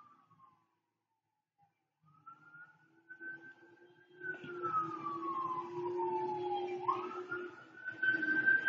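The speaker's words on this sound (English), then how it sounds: "Waiting for the fire department or fire engine pass" A fire engine siren sweeps past down the street near a fire department, rising and falling as it approaches and gets louder, with a low engine rumble beneath.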